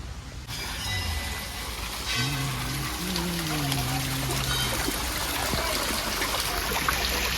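Water falls at Devraj temple near Modasa, making a continuous splashing rush up close, with a faint voice briefly audible over it.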